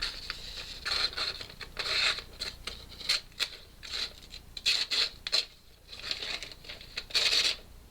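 Carbide chisel edge tearing through paper, heard as a series of close, dry scratchy rasps in irregular bursts over several seconds, with brief quiet gaps between strokes.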